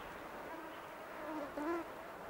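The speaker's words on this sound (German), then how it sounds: "Mücken plagen sie an windstillen Tagen." Mosquitoes whine around reindeer on a windless day in the Lapland mountains, a faint, thin high buzz that rises briefly louder near the end of a short stretch.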